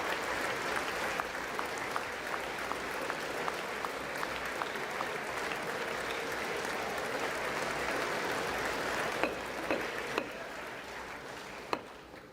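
Members of the US Congress give sustained applause in the legislative chamber to welcome the South Korean president, a dense, steady wash of clapping with a few sharper claps standing out, lasting over twelve seconds.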